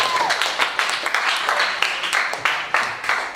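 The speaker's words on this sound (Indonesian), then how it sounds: "Tepuk tangan dulu buat mereka berdua sekarang." Applause from an audience at a Friday open mic organisational talk, steady clapping with sharp individual claps standing out, a voice cutting across near the start.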